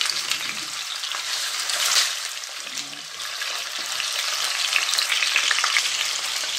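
Chicken pieces fry and get stirred in a hot pan while being browned for an Andalusian-style dish, a loud steady sizzle with brief scraping of a utensil, close up and without talking.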